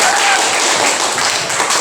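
A classroom group applauds, a loud, dense burst of clapping lasting under two seconds.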